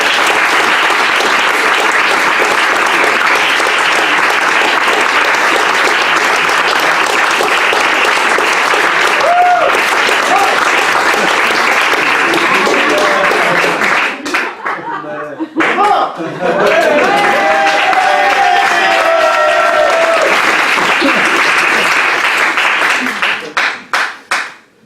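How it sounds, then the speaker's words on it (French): Loud, sustained audience applause at a French comedy stage show, a dense wall of clapping that dips briefly partway through, then swells again before tapering off at the end. "Un tonnerre d'applaudissements pour lui, allez,"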